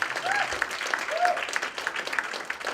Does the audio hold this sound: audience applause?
yes